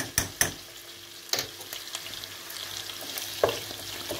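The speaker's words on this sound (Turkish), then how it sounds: "Kemikli etimiz kavruldu. Şu an bir yemek kaşığı biber salçası ilave ediyorum." Bone-in meat with pepper paste fries in a pan with a soft, steady sizzle, broken by a few sharp clinks and scrapes of stirring, quiet and close with no talk.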